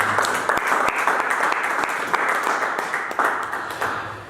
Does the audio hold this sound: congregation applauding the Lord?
yes